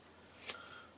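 A single quiet snip of scissors trimming the corner off a card while making a journal, one short crisp metallic cut in an otherwise quiet room.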